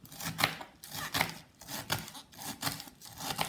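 A sharp knife chops mixed greens stems finely on a board in quick regular strokes, each a soft muffled crunch repeating about every half second, faint and close with no talk.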